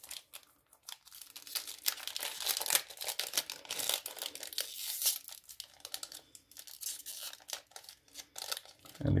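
Crinkly plastic wrapper of a Yu-Gi-Oh! Soul of the Duelist card pack being torn open by hand, giving a close, busy run of tearing and crumpling rustles that keep going with brief pauses throughout.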